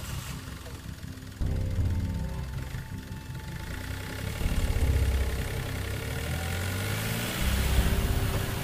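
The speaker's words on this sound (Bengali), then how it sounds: "গ্রামে পুলিশের গাড়ি ঢুকতেই তার আওয়াজে বেশ কয়েকজন বাইরে বেরিয়ে এলো" A police car drives into a village, its engine a low rumble that grows louder after a quiet start and then holds a steady drone with some rising surges.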